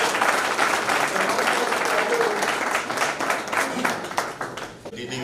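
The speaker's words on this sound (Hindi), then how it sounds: "तालियां तो होनी चाहिए।" Loud, sustained audience applause at a formal stage event with a National Commission for Women chairperson, dense clapping throughout with crowd noise and voices mixed in.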